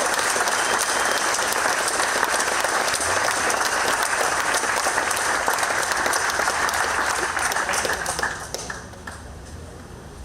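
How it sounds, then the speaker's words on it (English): Loud, sustained applause from a large audience at a hall of fame award ceremony, dense clapping filling the room for about eight seconds before thinning slightly at the end. "Can we please give the Kaiser Corporation a big round of applause?"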